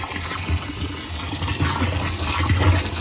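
Water gushes steadily from an opened valve on a farm, splashing into a container where fertilizer is being mixed for a drip irrigation system, a continuous close rushing flow with no talk.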